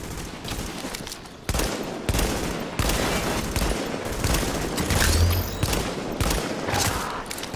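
Rapid bursts of sniper rifle gunfire in a Dark Zone video game match, loud, close and sustained, with sharp cracks and heavy booms repeating across the whole stretch.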